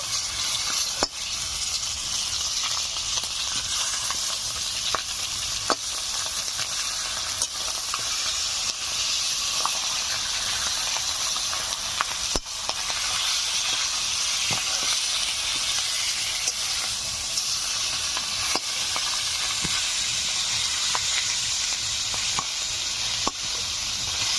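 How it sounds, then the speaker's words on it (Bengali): Steady, dense sizzling of a catla fish head frying in hot oil, continuous and fairly close, with occasional scraping clicks from a utensil. "মাথাটা ভেঙে চুড়ে ভালো করে ভেজে নিচ্ছি।"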